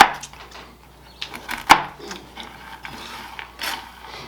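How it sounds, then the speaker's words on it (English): Toasted pecans are chopped finer with a sharp knife on a board, a series of close, irregular sharp taps and crunchy clicks, one especially loud hit near the middle. "So we're just going to take our sharp knife here and chop them up a little bit finer"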